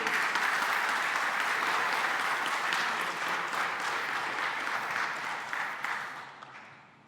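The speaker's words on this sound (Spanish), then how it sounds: "Denle un aplauso grande al Rey." A church congregation applauding during a Spanish-language sermon, a broad, dense wash of many hands clapping together that holds steady and then fades away over the last second.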